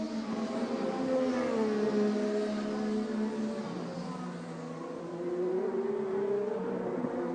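An IndyCar race car engine at the Mid-Ohio Honda Indy 200 drones and wavers unevenly at a distance, running rough, its pitch sagging and rising in a labored tone with no voices.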